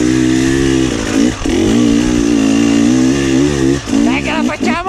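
A motorcycle carrying two riders drones steadily with rising and falling pitch as it rides, with brief dips and a voice calling out near the end.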